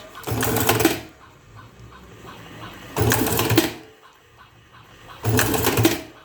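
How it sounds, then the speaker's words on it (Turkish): A cigarette tube filling machine with a MOSFET control card and a tube sensor runs in three loud bursts of about a second each, with quiet gaps of roughly two seconds between them. "Makine şu şekilde makaronu gördüğü zaman gördüğü anda start veriyor."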